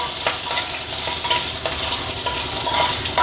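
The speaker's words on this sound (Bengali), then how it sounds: "কিছুক্ষণ ভাজবো, ততক্ষণ একটা সুঘ্রাণ বেরোচ্ছে।" Green chillies fry in a hot dal tempering, giving a loud, continuous sizzle with a spoon stirring and scraping in the pan at a rapid rhythm.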